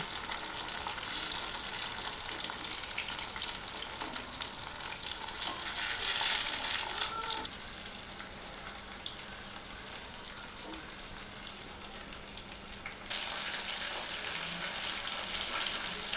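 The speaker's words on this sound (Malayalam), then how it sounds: "ചിക്കൻ ചട്ടിയിലിട്ട ശേഷം ആദ്യം ഒന്ന് ഹൈ ഫ്ലെയിമിലാക്കിയ ശേഷം നമുക്ക് തീ മീഡിയം സൈസിലാക്കാം" Chicken pieces dry-frying Kerala style in a pan, a steady dense sizzle that swells louder for a moment and continues close and even throughout, with no talk over it.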